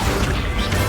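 Accio spell cast in Hogwarts Legacy, a short, dense crash and thwack of game spell effects with a brief swish, loud and close, no talking over it.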